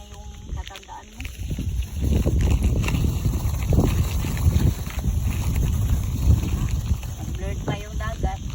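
Strong wind at sea near the shore, roaring steadily into the microphone with gusty low rumble throughout; people talk over it at times.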